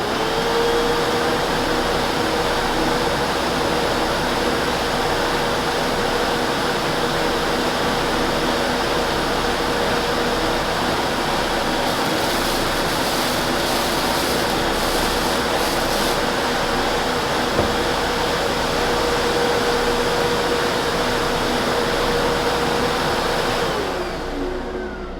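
A Hoover WindTunnel 2 U8351 upright vacuum cleaner running continuously, a loud steady motor whine and airflow roar with a faint tonal hum, holding nearly unchanged before cutting off at the very end.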